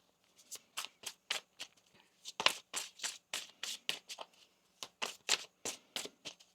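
Tarot cards being shuffled in repeated riffling bursts, about a dozen quick crisp flutters in an uneven rhythm, close and fairly quiet with no talking.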